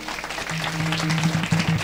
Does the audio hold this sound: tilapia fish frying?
no